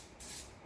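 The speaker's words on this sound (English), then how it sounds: "So pan spray, get it going. You want to spray the pan." Cooking spray hisses onto a baking pan for a bread pudding, a single short, soft pressurized burst of under half a second, close and quiet.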